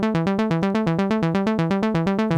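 A Korg Volca Bass synthesizer loops a fast three-note sequence, short buzzy bass notes pulsing in a steady, even rhythm of roughly seven notes per second, loud and up close with nothing else heard.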